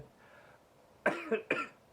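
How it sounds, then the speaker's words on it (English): Three sharp coughs in quick succession, close and fairly loud, following a faint stretch of near-silence. "The phlegm will make me cough."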